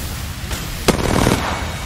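A grenade blast in the Apex Legends video game lands as one sharp, loud burst with a short rumbling tail, heard close and mostly on its own.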